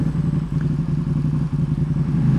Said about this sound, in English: Hats off to the Aero slip-on exhaust